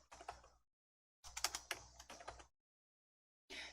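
Typing on a computer keyboard as a search term is entered, two bursts of quick, close key clicks separated by a pause, with a third burst starting at the end, no talking.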